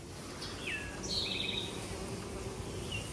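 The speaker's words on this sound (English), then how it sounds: "This whole bush is buzzing." Bees, honeybees and solitary bees, buzzing around a flowering shining sumac bush outdoors, a continuous soft drone of many wings with a few faint bird calls above it.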